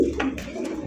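A racer pigeon coos close by in a short, steady run of soft low throaty notes with a couple of brighter breathy pulses, and no voices over it.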